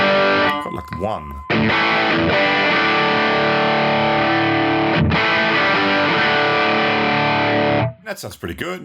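A distorted electric guitar played through a Laney Ironheart amp simulation rings out in loud, thick sustained chords, with a couple of short chugging stabs at the start and end.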